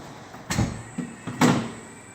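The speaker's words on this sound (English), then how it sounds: "you can slide the whole thing back in just like a drawer" A Stryker powered ambulance stretcher load system slides back in like a drawer with a couple of close, muffled thuds and a soft rolling scrape, followed by a final heavier clunk as it seats.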